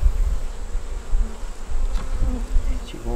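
Honey bees buzz steadily around an opened hive with queen cells and brood, a dense continuous insect drone that swells and dips in loudness without any talking.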